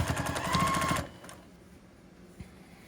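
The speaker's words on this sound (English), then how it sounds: "I usually back stitch there, and then I continue sewing the rest of the way" A sewing machine runs briefly while stitching quilt binding, a short, loud rhythmic burst of needle strokes that stops after about a second, leaving quiet room tone and a faint click.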